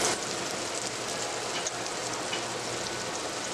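Chicken wings searing on a hot Steelmadeusa steel griddle, a dense, steady sizzle and crackle of fat close up, running without pause.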